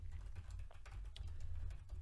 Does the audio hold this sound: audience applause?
no